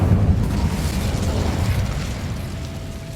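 A fiery Incendio spell bursts out in Hogwarts Legacy, a loud whooshing blast with rumbling crackle that fades slowly over a few seconds, with no voices.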